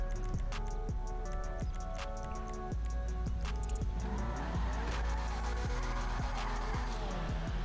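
An Annis Euros X32 sports car in GTA Online accelerates hard, its engine rising through repeated gear shifts with a steady loud drone and rhythmic pitch drops, close and continuous with no talking.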